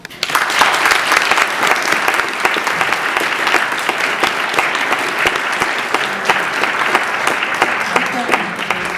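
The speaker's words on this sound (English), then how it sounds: "please give them great applause" A conference audience at an event on Baltic Sea security applauds the panelists, dense sustained clapping from a full room that starts abruptly and holds steady throughout.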